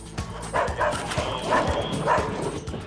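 Police dog barking during a search of dark underground passages for hiding partygoers, repeated sharp barks and yips in quick succession, close and loud, with some voices in the background.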